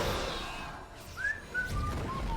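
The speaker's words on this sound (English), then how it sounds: "I'm whistling until the screaming stops." A person whistles a short, sliding tune over the busy sound of a StarCraft 2 battle against Amon: several bright, clear whistled notes, each gliding, loud and close.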